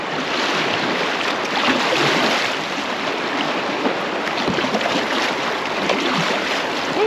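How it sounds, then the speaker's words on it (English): A paddle strokes through a small river while fishing, set within a continuous loud wash of rushing water that covers the whole stretch. "I need both hands on the paddle for this one."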